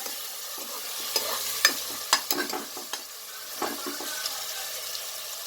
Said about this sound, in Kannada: ಸ್ವಲ್ಪ ಲೈಟ್ ರೆಡ್ ಆಗೋ ತನಕ ಫ್ರೈ ಮಾಡ್ತೀನಿ ನಾನು